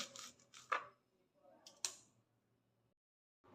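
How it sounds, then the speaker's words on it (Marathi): Spring onion greens being chopped with a knife: a few sharp, faint cutting taps with gaps between strokes, close and otherwise quiet. "असंच मी सर्व कांदा पात चिरून घेते"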